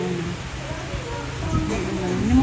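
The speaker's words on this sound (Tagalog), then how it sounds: "Lakas po ng ulan." Heavy rain pours steadily during a typhoon in Cebu, heard from inside a vehicle climbing a road, a dense continuous wash under engine rumble that swells slightly toward the end.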